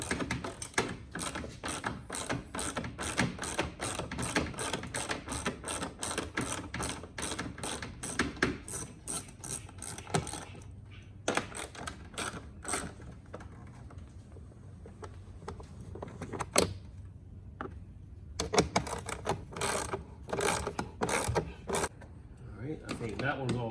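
Ratchet clicking in rapid bursts while 4 bolts come out of a Ford Bronco air box, pausing and restarting in shorter runs, close and fairly loud, with occasional speech between.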